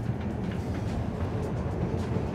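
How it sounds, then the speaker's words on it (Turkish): An elevated Chicago Loop train rumbles past overhead in a city street, a steady, heavy low roar that holds loud and constant throughout with no voices. "Üstteki tren geliyor, görüyorsunuz."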